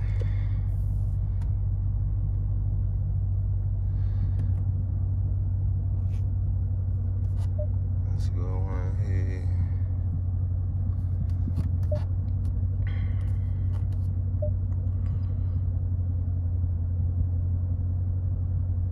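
A 2018 Dodge Challenger's engine and exhaust give a steady, deep low rumble throughout, with no voices.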